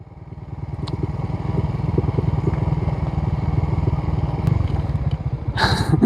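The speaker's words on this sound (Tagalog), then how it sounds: "Kahit ito yung dala nating motor, kayang-kaya niya." A motorcycle engine chugs steadily at low revs while riding a rough mountain trail, with occasional clatter and scrapes from the terrain and a brief hiss near the end.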